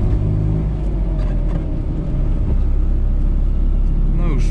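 A 1988 FSM 126p 650E small car engine droning steadily while driving in fourth gear at low revs, a loud continuous rumble with a slight rise in pitch near the end.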